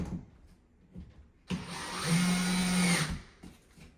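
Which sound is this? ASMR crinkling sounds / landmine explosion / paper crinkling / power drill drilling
power drill drilling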